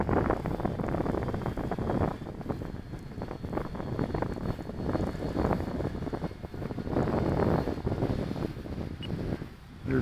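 A 2.1 m Carbon-Z Cub SS radio-controlled plane takes off at half throttle, its motor drone heard outdoors amid heavy, gusting wind rumble against the microphone.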